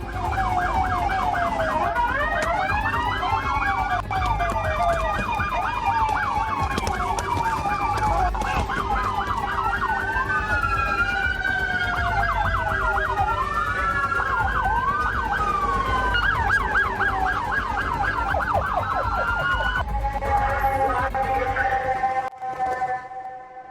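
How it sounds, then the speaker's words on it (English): An ambulance escorted by many police cars, their sirens wailing and yelping loudly in overlapping sweeps, passing close in a street with traffic noise underneath and a sudden cutoff near the end. "Britney Spears is on her way to the hospital, escorted in an ambulance by 13 police cars under blue light sirens"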